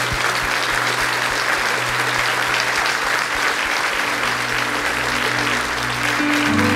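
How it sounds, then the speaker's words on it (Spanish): A church congregation applauds loudly and steadily, a dense sustained wash of many hands clapping at close range with a faint low hum beneath, carrying on without a break from start to finish. "Dele un aplauso fuerte al Señor."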